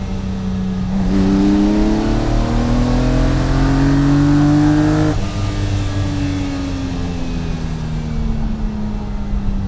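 A Lamborghini Miura's V12 engine, running after a fault was traced, idles and then revs up in a smooth rising sweep. It holds high for several seconds, drops back and settles into a loud, steady idle.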